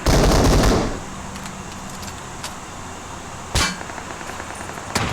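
Video game gunfire: a loud rattling burst opens, then sharp isolated shots crack out sporadically over quieter background noise, with no talking.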